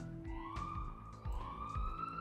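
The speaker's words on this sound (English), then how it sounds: "Is that an ambulance I hear?" An ambulance siren wails in the Roblox video game, a rising and falling electronic tone cycling twice against a busy background of thumping game sounds.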